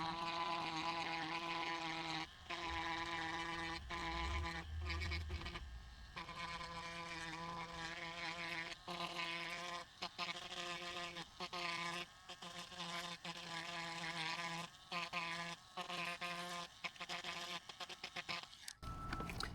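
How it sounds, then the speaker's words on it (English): A Dremel rotary tool cuts a groove into a cracked plastic bumper, a continuous high-pitched whine with a steady buzzing tone that wavers and dips briefly as the bit bites into the plastic, sustained and close. "we're going to use the Dremel to cut a groove"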